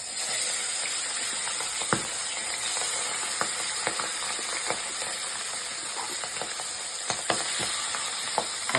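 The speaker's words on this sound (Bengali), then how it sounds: "পাবদা মাছটা এখন ভাজা হবে" Pabda fish frying in hot oil in a pan, a loud continuous sizzle with scattered crackles and a few sharp pops and utensil clicks, no talking.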